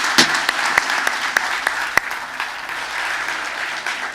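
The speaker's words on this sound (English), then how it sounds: "let's give them a round of applause" Audience at an innovation and artificial intelligence forum in Uruguay applauding a panel, a fairly loud burst of many hands with a few sharp individual claps standing out near the start, continuing steadily.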